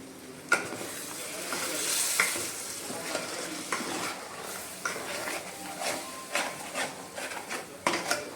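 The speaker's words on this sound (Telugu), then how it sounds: "1 స్పూన్ కారం వేసుకొని బాగా వేపుకోవాలి" Chili powder frying in oil in a pan for a fish curry, a continuous sizzle with intermittent scraping as a spoon stirs it, fairly close and steady.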